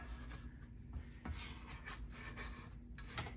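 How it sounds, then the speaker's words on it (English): A scraper or spatula rasps around the sides of a mixing bowl of zucchini pineapple bread batter, giving a steady soft scraping texture with a few brief louder strokes and no talking. "I'm going to just make sure it's scraped down around the edges"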